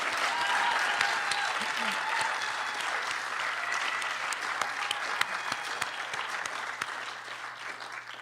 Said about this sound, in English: oh yeah, please, round of applause.